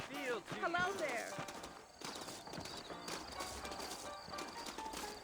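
Saddled horses' hooves clip-clop in a steady rhythm in the video game Red Dead Redemption, mixed under game music and a horse's whinny at the start.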